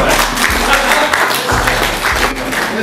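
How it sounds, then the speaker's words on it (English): Audience round of applause during a business talk, loud, dense clapping from many hands that stays steady throughout with no voices over it. "you should give yourselves a big round of applause for that."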